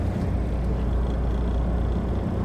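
An MTA shuttle bus on the Hempstead Branch replacement service idles nearby with a steady, heavy low-pitched engine rumble that holds constant, with no talking.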